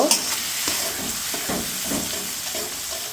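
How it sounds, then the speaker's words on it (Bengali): Ginger paste and turmeric spices frying in hot oil in a pan, a close, steady sizzle with soft scraping stirs at intervals and no talking. "এখন এই মশলাটা তেলের মধ্যে ভালো করে ভেজে নেব।"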